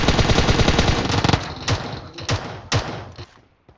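Rapid bursts of automatic gunfire in PUBG Mobile, a dense loud volley giving way to several separate shots spaced apart, with a faint voice underneath.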